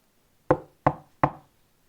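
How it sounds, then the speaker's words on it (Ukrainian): Three soft, timid knocks on a house door, evenly spaced and close, each a short wooden rap with a quick decay in otherwise quiet surroundings. "Вони вирушили до будинку крокодильчика та боязко постукали у двері."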